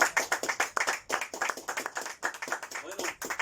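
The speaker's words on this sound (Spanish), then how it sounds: "le damos un aplauso al Señor." A church congregation claps in rhythm, a steady run of sharp, close hand claps that continues without pause. A faint voice sits underneath.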